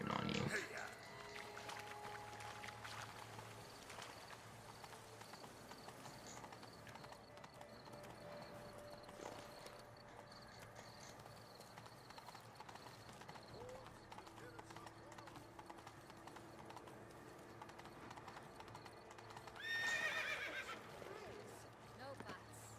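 Horse hooves clip-clop steadily while a horse neighs in The Witcher 3: Blood and Wine, under game music and character dialogue, with a louder whinny burst near the end.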